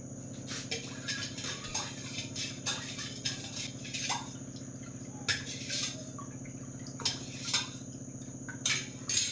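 A spoon stirs sugar into juice in a glass, giving faint, scattered clinks and light scraping taps at an irregular pace over a quiet, steady background hum.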